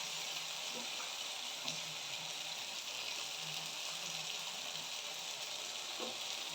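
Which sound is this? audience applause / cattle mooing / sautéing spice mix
sautéing spice mix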